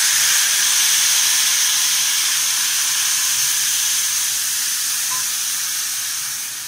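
Tamarind extract hits hot oil in a pan for puli kachal, giving a loud, steady sizzle and steamy hiss that slowly fades toward the end, with no voices.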